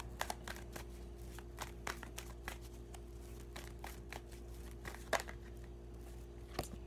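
Tarot cards being shuffled in soft, quick riffles and taps, faint and close, with a steady low hum underneath.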